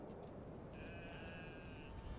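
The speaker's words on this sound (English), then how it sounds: "That was more of a bleat from a sheep" In the farming game Manor Lords, a single sheep lets out a thin, sustained bleat over a low rumbling ambient bed, fairly faint and mid-distance.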